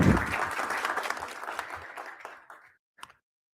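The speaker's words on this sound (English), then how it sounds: "Let's give a strong round of applause to all our founders today." Audience applause following a startup pitch at a fintech demo day, a dense roar of many hands that swells briefly then thins and fades out, with a few last scattered claps near the end.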